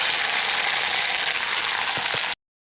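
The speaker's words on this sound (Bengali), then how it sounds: "প্রথমে আলুটা ভাজাটা আমি দিয়ে দিচ্ছি মশলার মধ্যে" Spiced potatoes fry in a pan of cumin, chopped onion, ginger and dry red chilli paste, giving a steady loud sizzle with a couple of faint low knocks near the end before it cuts off.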